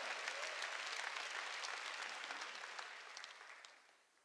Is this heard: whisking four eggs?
no